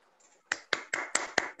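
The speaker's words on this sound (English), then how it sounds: "So give him a big round of applause." Audience applause welcoming a first-time speaker at a Toastmasters meeting, heard as six sharp, evenly spaced claps or bursts of clapping close by, following a faint tone.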